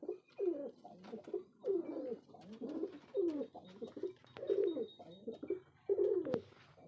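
Domestic pigeons coo close by at home in a steady rhythm, with a soft, throaty call repeating about every second and a half and no talk over it.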